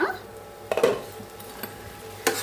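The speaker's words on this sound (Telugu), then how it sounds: "ఓపెన్ చేద్దాం మూత." A cooking pot lid is lifted off while tomatoes and curry leaves cook for tomato coconut chutney, giving a brief metallic clatter and clink up close, followed by a quieter clink later.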